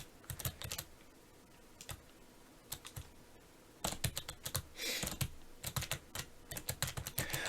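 Typing on a Razer Ornata mecha-membrane keyboard with clicking switches, close and quiet key clicks arriving in irregular bursts and runs, with a denser flurry near the end.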